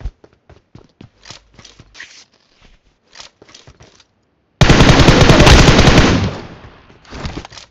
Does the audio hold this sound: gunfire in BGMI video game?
yes